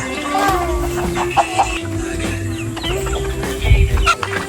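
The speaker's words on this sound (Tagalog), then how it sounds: "Yung manok yan ni Niknik?" Chickens clucking nearby on a small farm, repeated close clucks over a steady background hum, with people talking now and then.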